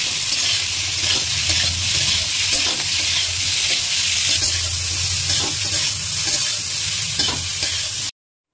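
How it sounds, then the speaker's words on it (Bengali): Soybean chunks frying with turmeric and salt in oil make a dense, steady sizzle with continual stirring and scraping, loud and close, with no voices. "এবার এটাকে একটুখানি লাল লাল করে ভেজে তুলে নেব"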